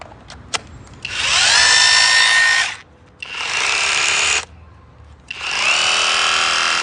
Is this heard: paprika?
no